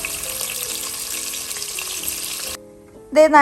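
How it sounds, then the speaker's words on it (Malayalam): Onions frying in hot oil in a cooker give a steady close sizzle that cuts off abruptly partway through, followed by a brief louder tonal clatter at the end. "ചൂടായ എണ്ണയിലോട്ട് സവാള ഇട്ട് കൊടുക്കാം കേട്ടോ."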